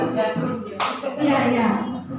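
A class of students claps a rhythm together in a classroom, producing a sharp burst of hand claps amid a roomy background of shuffling and murmur.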